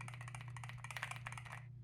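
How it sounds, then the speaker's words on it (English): Keys clack in a quick, even run on a compact gaming keyboard, a dense burst of light, close taps over a low steady hum, then a sudden stop. "The keys are not too loud"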